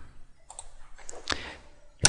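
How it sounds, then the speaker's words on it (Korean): A single sharp click of the Enter key on a computer keyboard during a CAD software session, with a few lighter taps before it and another click at the very end in a quiet room. "키보드상에 엔터키 눌러서"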